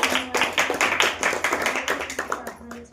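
A congregation at a Saturday church power meeting claps hands in a steady, fast rhythm, sharp repeated claps carrying on for the whole stretch, with voices singing and calling out over them.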